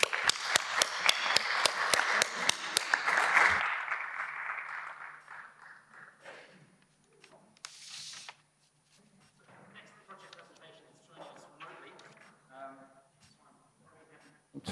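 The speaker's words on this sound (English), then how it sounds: "Please give them a round of applause." An audience at the ZeroCon20 Youth Forum gives a round of applause for a group of presenters, distinct claps in a fairly loud burst for about three seconds before it stops and a person speaks.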